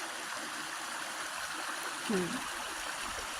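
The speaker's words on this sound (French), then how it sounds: "je suis ici en fait au pied d'une petite cascade" Water flowing steadily at the foot of a small waterfall, a constant broadband rush filling the scene, with a brief voice heard faintly over it.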